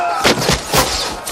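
In a battle scene from the film Braveheart, loud booming shots land in quick succession, three or four heavy reports over a dense rumble of battle noise.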